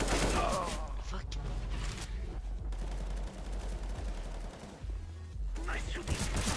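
Rapid AK rifle fire in Counter-Strike: Global Offensive, loud sustained bursts of shots running almost the whole way through, with short breaks between the volleys.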